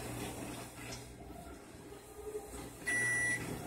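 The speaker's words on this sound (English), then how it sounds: "waiting for that to" A microwave oven hums steadily, then a sharp electronic beep sounds once near the end.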